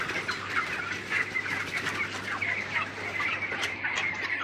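A crowded flock of chickens in an open poultry farm shed keeps up continuous overlapping clucks and chatter over a low, steady fan hum.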